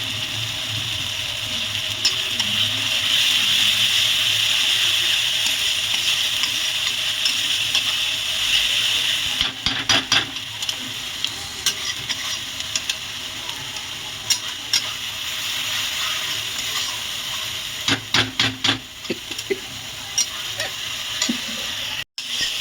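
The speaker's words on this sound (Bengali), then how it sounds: "দেখুন বন্ধুরা পাঁচ মিনিট মতন আমি মশলাটা কষিয়ে নিয়েছি" Masala for a desi chicken curry sautéing in a pan: a continuous close sizzle, broken by a few sharp bursts of scraping and stirring near the middle and end, with no talking.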